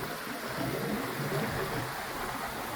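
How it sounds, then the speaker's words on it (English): A Vevor FlashPure sand filter pump runs as water flows in and out through its hoses, a steady close rushing wash over a low motor hum. "You hear the water coming in through here,"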